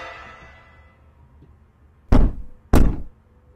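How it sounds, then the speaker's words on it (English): Two heavy, sharp bangs on a wall in a horror film land about half a second apart, loud and close, after a quiet stretch with a fading low tone. "Can you please stop banging on the walls?"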